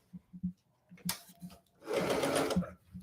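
A sewing machine stitches a quilting seam: a few short, close needle bursts first, then a steady whirring run lasting a couple of seconds before it stops.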